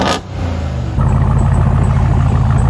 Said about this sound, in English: This is what a V8 sounds like.